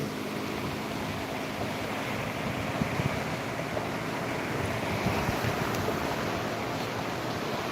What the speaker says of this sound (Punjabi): ਉਫਾਨ ਤੇ ਸਤਲੁਜ ਦਰਿਆ